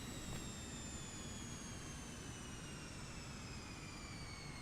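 Airliner jet engines in Microsoft Flight Simulator 2024 hum steadily, a faint, continuous roar with rising whine tones sweeping slowly through the whole stretch, no talking over it.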